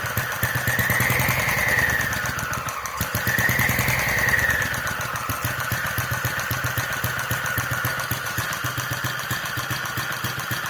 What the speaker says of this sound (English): if we blip the throttle